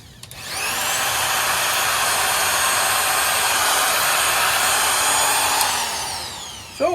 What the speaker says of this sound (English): So it works fine for a little grinder.